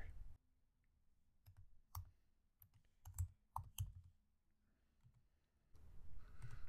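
Computer keyboard typing at a terminal, a short run of sparse, distinct key clicks at close range, quiet overall with soft room hum and breaks before and after.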